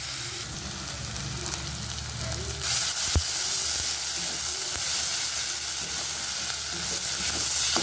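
Grated onion and ginger-garlic paste frying in oil in a pan for chicken curry, a steady close sizzle with stirring that flares into a louder, brighter hiss partway through.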